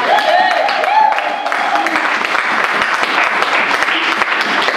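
A church congregation breaks into loud, sustained applause and clapping, with voices calling out over it.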